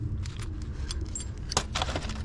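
Metal keys jangle and clink repeatedly while a container of scrap brass and other non-ferrous metal is sorted, with small bright rattles over a steady low background rumble and no talk.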